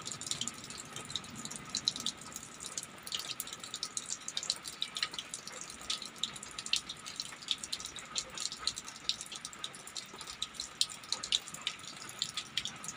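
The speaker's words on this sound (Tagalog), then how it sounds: "Yung ginagawa ko tong kwan ko. Parang hugasan ng plato." Dishes being washed under running water at a sink, a steady close hiss of flowing water with light clinks and splashes throughout.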